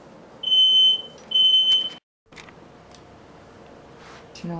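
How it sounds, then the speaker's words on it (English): Smoke alarm in an apartment kitchen sounding two long, loud, shrill electronic beeps in quick succession, then falling silent over a low background hum. "Oh crap, fire alarm."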